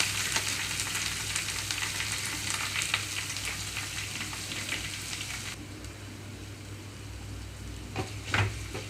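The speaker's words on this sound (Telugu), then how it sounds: "ఉల్లిపాయలంతా ఇక్కడ సాఫ్ట్ కలర్ నుంచి చక్కగా ఫ్రై అయిపోవాలండి మీడియం ఫ్లేమ్లో ఉంచి వేయించుకుంటున్నాను" Chopped onions, green chillies and curry leaves fry in a pan over a medium flame, a steady close sizzle with occasional stirring clatter and a low hum underneath, no voices.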